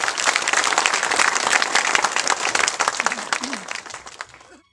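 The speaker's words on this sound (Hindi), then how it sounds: "जोरदार तालियां।" Loud, sustained applause from a village gathering as a local woman is honored at a ceremony, dense clapping that fades out near the end with a brief voice at the tail.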